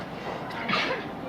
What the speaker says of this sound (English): I'm gonna sneeze there.